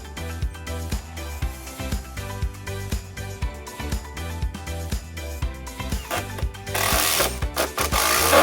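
A power drill drives screws into the legs of a cheap DIY rolling workbench, buzzing in rapid rhythmic bursts close up, with a harsher, noisier stretch toward the end.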